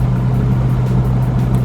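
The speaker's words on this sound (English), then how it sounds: "maybe I can get this extremely loud exhaust a little bit quieter" A '96 Ford Mustang Cobra idles through a loud SVO sidepipe exhaust, giving a steady, deep, throbbing burble close by with a slightly uneven pulse and nothing else over it.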